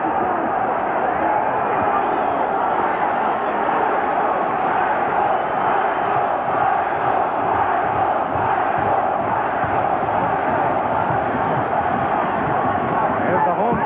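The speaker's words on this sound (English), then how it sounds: "There's the home crowd." A home crowd roars and cheers without a break at a professional boxing match, a dense wall of sound that holds steady throughout.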